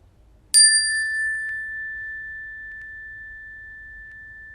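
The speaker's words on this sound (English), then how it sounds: "And then I'll ring the chime" A meditation chime is struck once and rings out with a bright, clear tone that hangs and slowly fades over several seconds in a quiet room.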